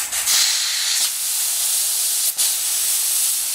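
Steady loud hiss of compressed air from an air hose hooked up to a spray rig, continuous for several seconds with a brief dip and a short burst near the end.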